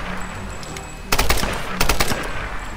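Rapid bursts of rifle gunfire in the video game Tomb Raider, two loud volleys of quick shots, the first around one second long, the second shorter, over steady game background ambience.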